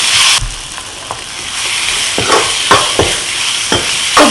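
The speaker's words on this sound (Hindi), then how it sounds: "बेसन को अच्छे से भूनने के बाद अब इसमें हम डाल देंगे सब्जियां।" Vegetables are stirred into roasted gram flour in a pan, with steady close sizzling and several scraping stir strokes, and no talk.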